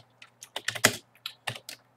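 Quick bursts of typing on a computer keyboard, close and clear, with short irregular runs of keystrokes separated by brief pauses and no voices.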